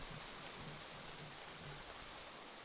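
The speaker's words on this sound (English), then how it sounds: "It's pouring out there now." Steady, dense hiss of heavy rain on a North Idaho homestead, heard from under cover, constant and enveloping with no pauses or voices.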